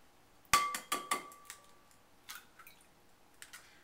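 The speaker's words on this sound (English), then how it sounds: "Step 1, crack 2 eggs into the bowl." Two eggs crack against a bowl's rim, giving a sharp tap followed by a few quick clinks and light knocks, then softer taps later, close and quiet with no talking.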